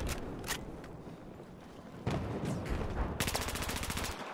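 Gunfire in the video game Battlefield 4, with bursts of rapid automatic shots; a dense, even run of fast repeated reports fills the last second, set against ongoing battle noise.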